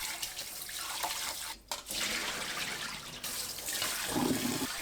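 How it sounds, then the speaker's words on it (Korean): Tap water runs steadily into a sink while noodles are rinsed beneath it, the splashing rising and dipping with a brief pause partway through. "비벼가면서 3-4번 헹궈주세요"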